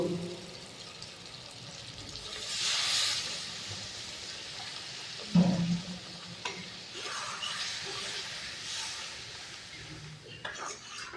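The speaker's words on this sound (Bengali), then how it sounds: "এখন অল্প জল দিয়ে দিব।" A little water is added to sizzling spiced chicken being cooked down in a pot for Kerala-style chicken biryani. A hissing surge of steam swells, then eases into a low sizzle broken by occasional clinks and stirring knocks.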